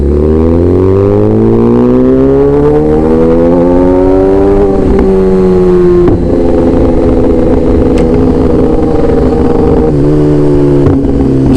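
A Kawasaki ZX-10R big bike roars loudly and steadily up through the revs, its engine pitch climbing for several seconds, dipping at gear changes, then holding a strong drone while riding, with no talking.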